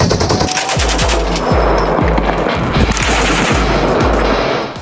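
A 14.5 mm naval shipboard machine gun fires a rapid, loud string of about nine evenly spaced heavy shots with sharp reports and ringing echo, with no talking.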